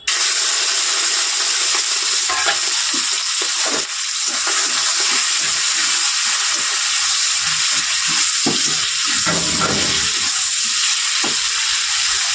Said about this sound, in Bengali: আগে চিংড়িটা ভেজে নেবো